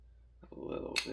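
Scissors make a single sharp snip at a soldering station, preceded by quiet shuffling and faint handling noise.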